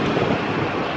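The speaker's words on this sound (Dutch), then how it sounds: "Het waait keihard." Strong outdoor wind roars as a steady, dense rush buffeting the microphone, loud and unbroken with no voices.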